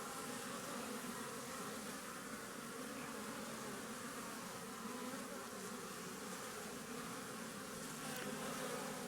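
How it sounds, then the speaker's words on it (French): Honeybees buzz steadily around a flowering goat willow, a dense, even hum of many insects at close to moderate distance, carrying on without pause and with no voices present. "on peut voir les abeilles qui profitent"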